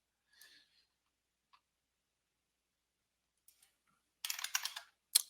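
Quick, faint taps on a computer keyboard, near-silent at first and then a short, denser flurry of clicks toward the end, with no one talking.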